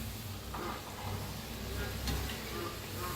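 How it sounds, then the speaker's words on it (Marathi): Wheat flour kapnya sweets sweetened with jaggery frying in hot oil, a steady soft sizzle and bubbling hiss running continuously and quietly throughout. "किती बसतात तेवढे सोडून घ्या, तेलात तळून घ्या."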